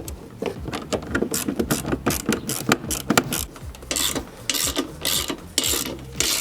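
Two bolts on the steering column of a Maxxter NEON electric scooter are tightened, giving rapid ratcheting clicks and metallic rasping in quick bursts, close and fairly loud.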